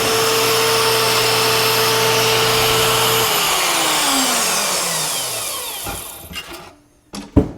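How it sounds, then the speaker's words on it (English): A bandsaw cuts a part in half with a loud, steady whine and humming drone that slowly winds down as the blade coasts to a stop, followed by a few clunks and knocks. "So I'm gonna move this over onto my bandsaw, and we'll just cut her in half."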